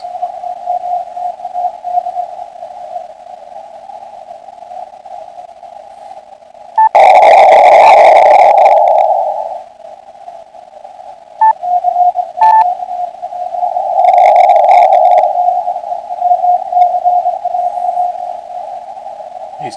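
Faint amateur radio station on a Parks on the Air contact, running 40 watts, barely above steady static with a constant tone; two louder bursts of signal rise out of the noise partway through.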